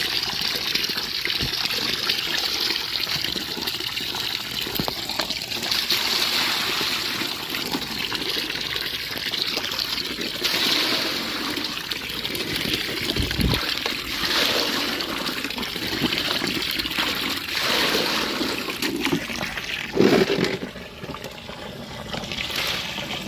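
Running water gushes steadily from a tap fed by a large overhead tank while harvested pechay is washed beneath it, a constant splashing and trickling close by with brief louder surges.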